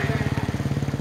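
Motorcycle engines at the Kila Raipur rural games in Punjab, a steady pulsing throb with a fast regular rhythm, loud and close.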